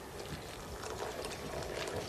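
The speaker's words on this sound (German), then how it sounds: "Und dann den Kamillentee drüber." Chamomile tea poured over a homemade shampoo mixture, a soft continuous trickle and splash that stays fairly quiet throughout.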